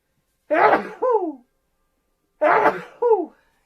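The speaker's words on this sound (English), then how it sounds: "Oh, I'm going to sneeze." Two sneezes a couple of seconds apart, each a sharp burst followed by a short trailing vocal tail, fairly close and moderately loud, with silence between.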